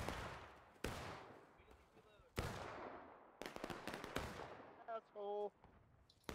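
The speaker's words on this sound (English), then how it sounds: "There's a volley coming down. Who shot that?" Musket volleys in War of Rights, several loud separate gunshot cracks with long echoing decays, some distant pops, and a voice talking in between.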